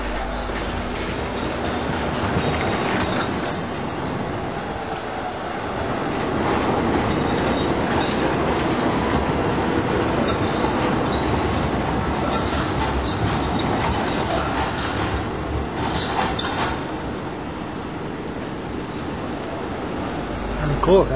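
A Milan tram running along its rails on an exclusive tram walkway, a steady rumbling roll with rising and falling wheel noise and faint squeal, close and continuous throughout, with a little background voice activity.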